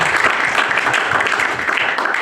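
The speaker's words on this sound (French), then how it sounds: "Qui peut acclamer son Dieu?" A church congregation breaks into applause and cheering for God during a French-language sermon, a dense, steady wash of clapping and voices lasting a couple of seconds.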